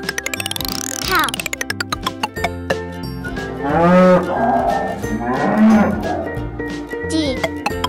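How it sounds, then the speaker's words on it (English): A cow moos in a children's alphabet lesson on animal sounds, two long low lowing calls rising and falling over a light plucked musical backing, clear and close. "Cow."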